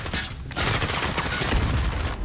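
Rapid automatic gunfire from hip firing in Call of Duty: Modern Warfare, loud and close, with dense overlapping shots in a sustained burst after a brief gap.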